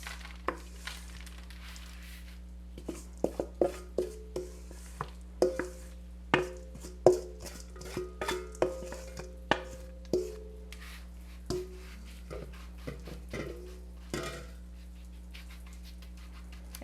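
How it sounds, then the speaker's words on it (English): Almond Joy granola, studded with chocolate chips and coconut, is spread across a prepared baking pan, giving a close run of irregular scraping and tapping strokes with no one talking. "Just spread it out on your prepared pan"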